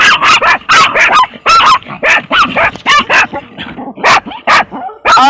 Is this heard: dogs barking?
yes